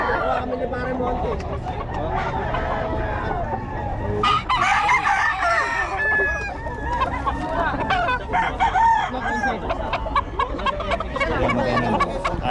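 A Boston sweater gamefowl rooster crows and clucks loudly and close by, among other birds in a busy, noisy setting, with calls repeating throughout.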